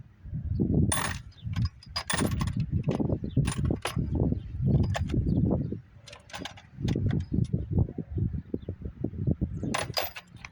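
A double-ended swivel wrench works a bolt during a car repair, giving a string of close metallic ratcheting clicks and clanks in irregular bursts with short pauses between them.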